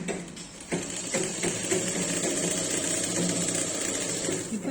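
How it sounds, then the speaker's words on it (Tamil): Sewing machine stitching the right side of a baby jabala, a 2.5-inch cloth piece fed on the inner side. A close, rapid mechanical chatter runs continuously, with a few brief starts and knocks near the beginning and no talking. "இப்போ ஃபஸ்ட் ரைட் சைடை ஸ்டிச் பண்ணி காமிக்கிறேன் பாருங்கள்."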